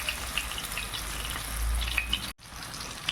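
Fish fries in a pan with only a little oil, giving a continuous soft crackling sizzle with scattered tiny pops, steady and close, broken by one brief cut near the end.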